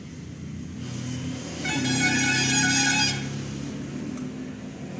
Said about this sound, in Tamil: இது வந்து 2 kW மேட் இன் இண்டியா. இது மோட்ரு ஓகேங்களா. டெஸ்ட் பண்ணி பார்த்துடலாம்.